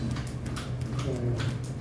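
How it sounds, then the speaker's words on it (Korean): Wrist clapping by a seminar group doing a clapping exercise, a rough series of dull, irregular thumps heard at moderate distance against steady low room hum. "그다음에 손목 박수."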